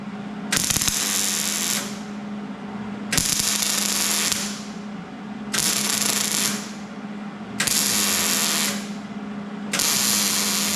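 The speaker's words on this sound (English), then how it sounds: "So I'm going to tack this in, do the plug welds, and then squeeze this in" Close-up welding of a metal patch into the trunk floor of a 1994 Jeep Cherokee XJ: four loud bursts of harsh crackling and hissing, each lasting about a second or two and separated by short quiet pauses.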